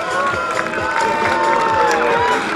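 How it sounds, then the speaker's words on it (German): Spectators at a motorsport event applaud and cheer for the helpers, a lively crowd roar with claps and whoops while a voice talks over it throughout. "Applaus für die Helfer."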